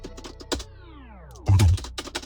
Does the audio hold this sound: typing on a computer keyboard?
yes